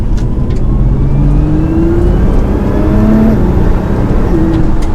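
A stock Nissan R35 GT-R accelerating hard, its engine a loud, steady close drone whose tones climb as it gains speed, with no talk over it.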